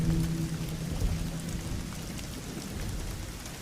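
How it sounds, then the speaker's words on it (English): Steady rain pours down in the video game Life is Strange, a dense hiss of drops with low rumbling beneath, continuous and fairly close throughout. "Well, it's raining"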